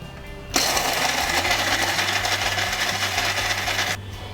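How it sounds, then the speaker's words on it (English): An electric mixer grinder jar whirs loudly as it grinds cooled toasted bread pieces into breadcrumbs, starting abruptly and running steadily for about three and a half seconds before cutting off. "So I'm using this mixer grinder jar. Now we need to grind it to form breadcrumbs."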